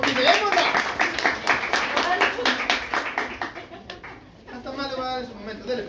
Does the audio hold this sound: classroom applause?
yes